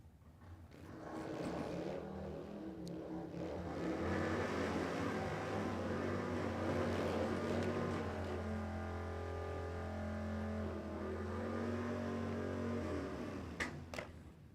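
A street bike launches at a Warwick Dragway drag race in Australia, its engine a steady loud roar with strong low harmonics that holds for around twelve seconds before fading at a distance.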